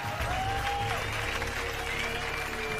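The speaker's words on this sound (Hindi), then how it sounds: "जब वो अपना स्टैंड अप कॉमेडी शो करता, लोग तालियों से उसकी हौसला अफजाई करते।" An audience claps at a stand-up comedy show, a steady wash of applause from a crowd, faint and mixed with sustained tonal background music.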